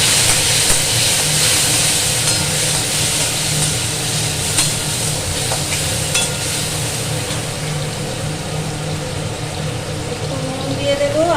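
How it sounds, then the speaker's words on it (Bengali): Chopped tomatoes fry in a pan with a steady broadband sizzle and hiss, loud and continuous throughout, with faint stirring and a voice speaking over it. "এই যে টমেটো কুচি করে রেখেছি এইগুলো প্রথমে ভেজে নেবো"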